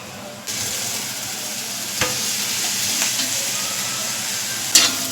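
Onion and tomato frying in oil with turmeric in a pan, a steady close sizzle that starts suddenly and holds evenly, with a few light knocks of a spoon against the pan and no talk.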